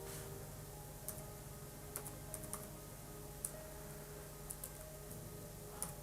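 Light tapping on a computer keyboard, a handful of scattered soft keystrokes over a low steady background hum, quiet and close with no talk.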